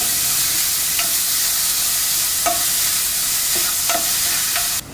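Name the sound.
grated carrot sautéing in pan for carrot payasam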